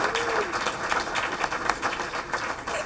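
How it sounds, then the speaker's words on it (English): Audience applause at a school board meeting, a steady wash of many hands clapping together for about three seconds, fairly loud and continuous with light crowd murmur beneath. "Let's give them all a big round of applause."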